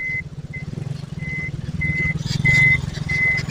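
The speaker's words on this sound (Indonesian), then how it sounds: "truk ini memindah material galian" A truck's reversing alarm beeps in a steady repeating rhythm over a low diesel engine rumble while it hauls excavated material at a narrow road-widening site with an excavator working nearby.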